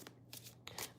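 Tarot cards being shuffled during a live reading, with several quick bursts of riffling card noise close by, without any talk.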